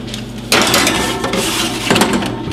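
Metal rattle and clank of a tray of fries sliding into a preheated home oven, a sharp bright clatter at the start, steady shuffling scrape, then a second clunk near the end.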